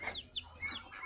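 Tied-up domestic ducks give a few short, faint calls close by, scattered over about a second with no talking.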